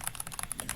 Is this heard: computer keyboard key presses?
yes